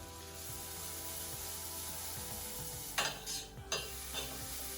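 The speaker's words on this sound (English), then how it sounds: "I want you to begin by taking about a tablespoon of butter and putting it into the pan" Butter sizzling in a frying pan for French toast: a quiet, steady hiss with a few brief louder scraping bursts partway through.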